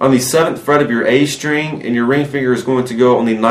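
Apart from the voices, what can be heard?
None of the usual background noises is heard.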